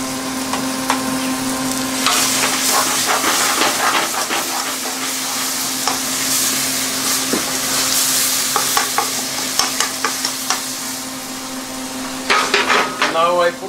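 Tadka of spices sizzles in hot oil for a Punjabi curry, a loud crackling fry with repeated stirring and scraping knocks, and brief speech in the middle.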